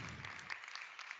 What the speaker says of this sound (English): Could we please give our panelists a warm round of applause?